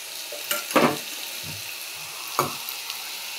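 Mustard oil sizzles in a frying pan while egg curry is cooked, a soft, steady hiss broken by a few sharp scraping bursts of stirring; no voices.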